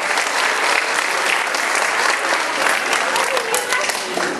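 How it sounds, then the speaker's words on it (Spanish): Audience applause at a town inauguration ceremony in Mahuixtlán, a steady dense clapping crowd sustained throughout, loud and close, with a voice over a public address system faintly underneath. "Vamos a recibirle con un fuerte aplauso."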